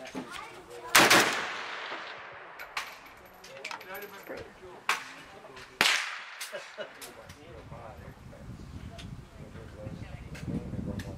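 Sharp, loud rifle shots ring out while sighting in at a range, several separate reports spaced seconds apart with echoing decay, and people talk quietly between them.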